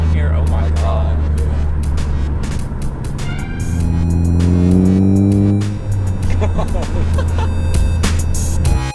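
A Ford Focus ST fitted with a Roush exhaust revs loud and close, the engine note rising and falling through several throttle blips, with a voice speaking over it.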